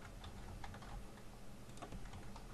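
Computer keyboard typing while writing web page layout code, faint scattered keystrokes half buried in a steady hiss of background noise, no voice.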